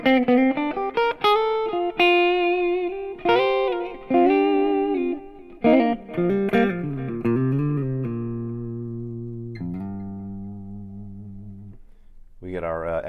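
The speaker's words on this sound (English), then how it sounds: "repeats from the delay, extra reverb, all the fun stuff that's added" Guitar played through an HX Stomp with delay and reverb, clean picked notes and chords ringing out with trailing repeats and a long reverb tail, loud and close, with no talking.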